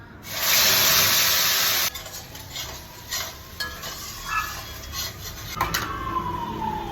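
A spiced paste of ginger, cumin, chili and pepper hits hot oil with a loud burst of sizzling, then eases into a steadier fry with stirring scrapes in the pan.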